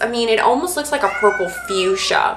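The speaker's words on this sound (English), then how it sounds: "That's my cat. He says hi." A pet cat gives a drawn-out, wavering meow close to the microphone while a person talks over it.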